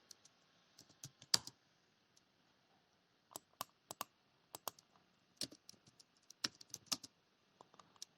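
Someone types on a computer keyboard while writing Python code, producing scattered, uneven bursts of sharp, close key clicks separated by short quiet pauses.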